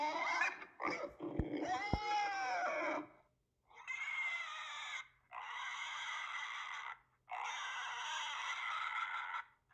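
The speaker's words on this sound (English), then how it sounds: "Can you hear the sound of the pig?" Several bursts of squealing, grunting animal calls in a row, each lasting about a second, close and fairly loud, with short pauses between.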